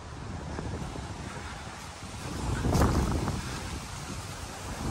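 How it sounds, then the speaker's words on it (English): Steady wind roars and buffets the microphone outdoors, swelling stronger for a moment midway before settling back to a constant rush. "Sorry about the wind. It is still whipping across here right now"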